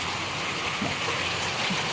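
Heavy rain pours down outdoors as an even, continuous hiss at a moderate level, with a couple of faint, brief sounds rising above it.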